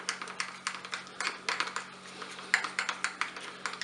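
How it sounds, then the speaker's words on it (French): Mustard and Boursin cheese are stirred together in a bowl, a quiet series of quick, evenly spaced taps and scrapes of a utensil against the dish, close and alone. "Je vais mélanger."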